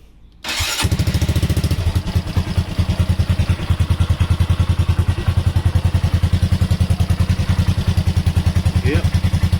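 A Honda MSX 125 Grom motorcycle engine cranks, catches and settles into a steady, close, loud idle with an even rapid putter throughout.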